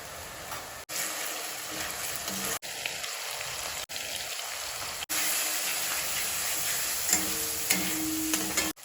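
Masala paste with tomato fries in a pan, cooked with onion, garlic paste and salt, giving a steady broadband sizzle broken by a few short scraping stirs and brief pauses, with no talk.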